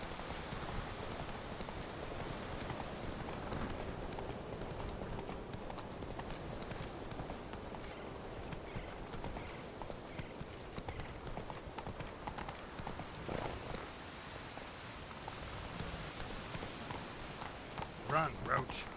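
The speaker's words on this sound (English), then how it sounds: "Run like the wind, Roach" Horse hooves galloping at a steady clip-clop in The Witcher 3, a dense, continuous run with game ambience underneath and some talk over it.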